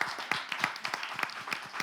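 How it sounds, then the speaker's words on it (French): A crowd claps steadily, a dense patter of many hands applauding at a moderate distance. "Je vous demande d'applaudir très fort le responsable"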